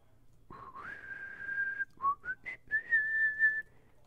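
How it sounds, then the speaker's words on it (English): Someone whistles a short, clear tune nearby: a long held note sliding upward, then several quick chirping notes and another sustained tone. "Whistling's weird too."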